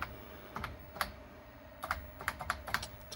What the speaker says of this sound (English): that keyboard just, what a satisfying noise that makes